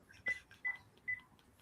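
Three short, bright touch-tone beeps come from a phone being dialed, evenly spaced about 0.4 seconds apart, close and clear over a quiet room background with no talking.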